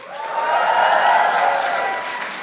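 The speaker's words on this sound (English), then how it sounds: "Can everybody please give Aisha a big round of applause" A crowd at an Eid al-Fitr reception applauds and cheers, the clapping swelling up and then easing off over a couple of seconds.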